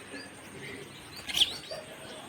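House sparrows chirp on a rooftop terrace, a few faint short calls with one brighter chirp in the middle over quiet background.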